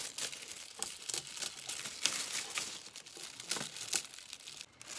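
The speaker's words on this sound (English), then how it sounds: "All I need to do now is to cut the extra paper out." Paper being cut and handled for a homemade bandana face screen, a close, continuous run of crinkling and rustling broken by sharper snips and crackles at an irregular pace.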